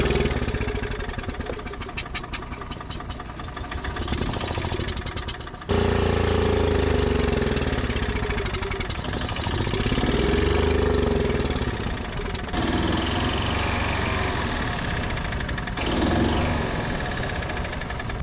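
A 1964 International pickup engine, choked at the intake, catches and fires, then runs in a rough, uneven idle with loud knocking pulses and a brief stumble before picking up again, close and continuous.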